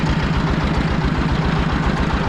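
Fighter T20 walk-behind motor tractor engine running in low gear, a steady close rumbling drone with a regular low-pitched throb and no breaks.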